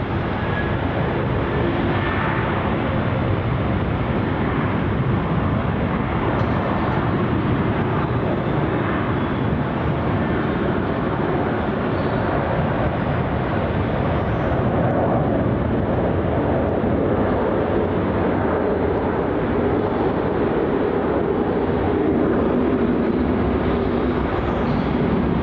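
Qantas jet in the old Roo livery departing from runway 34 at Melbourne Airport, a constant broad engine roar holding steady and loud throughout.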